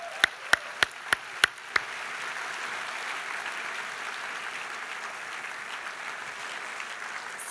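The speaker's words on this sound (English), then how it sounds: "Another big round of applause." A convention crowd after an onstage session: six sharp, evenly spaced close claps open over a faint, steady wash of distant applause that carries on alone.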